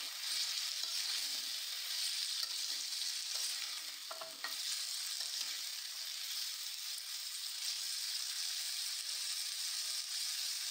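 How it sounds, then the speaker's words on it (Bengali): Pumpkin pieces with turmeric and salt frying in a pan, a soft steady sizzle with faint stirring scrapes and a brief clink partway through, no talking. "1 মিনিটের মতো আমি এটাকে ভেজে নেব।"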